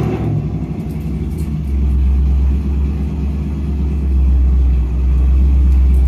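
A supercharged car engine rumbles and revs outdoors, a loud, continuous low drone that swells slightly as it runs, with no talking.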